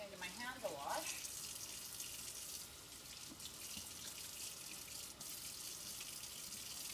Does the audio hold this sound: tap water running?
yes